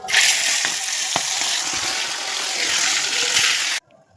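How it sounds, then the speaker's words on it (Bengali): Fish frying in a pan of hot oil, a loud dense sizzle with occasional spits and pops that carries on steadily, then cuts off abruptly near the end. "এবার পরপর সব মাছগুলো ভেজে নিই"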